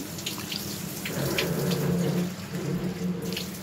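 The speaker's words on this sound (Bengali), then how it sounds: "এবারে একটু সামান্য জল দিয়ে দিই, বেশি ফোটাবো না যেহেতু আলুটা সিদ্ধই আছে" Water runs steadily into a cooking pot as a small amount is added to simmer already-boiled potatoes for a vegetarian green-banana kofta curry, a continuous splashing pour heard alone, swelling midway and easing off near the end.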